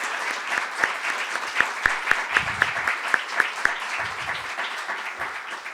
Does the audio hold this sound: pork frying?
no